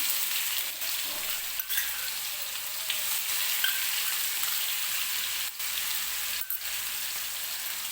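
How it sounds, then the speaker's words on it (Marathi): Green chili, ginger and garlic paste frying in hot oil, a steady close sizzle with crackling spatter running the whole time and a couple of brief dips. "छान असं तेलात हिरवी मिरची आपल्याला भाजून घ्यायची आहे"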